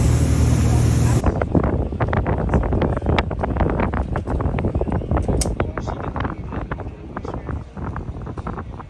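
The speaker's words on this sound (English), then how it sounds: "Nice breeze. We were up top with the captain." Steady wind rushes across the microphone on the open top deck of a boat, a loud continuous buffeting roar that fills the whole stretch after a brief burst of harsher noise at the start, with faint voices mixed in.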